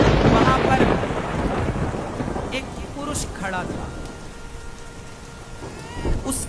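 Steady heavy rain with rumbling thunder, a dense, continuous wash of downpour that swells and eases. Someone narrates in Hindi over it.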